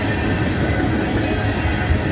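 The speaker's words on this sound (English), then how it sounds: "This is that tank train." A freight tank train rolls past at close range in Abbeville, a loud steady rumble of wheels and cars with a dense, continuous roar.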